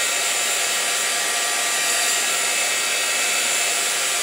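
A hair dryer blows steadily and loudly to dry a painted Christmas tag background, a constant airy hiss with no breaks and no talking.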